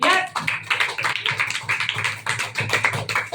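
Rapid, steady clapping from a small group, close and fairly loud, with quick repeated hand claps throughout.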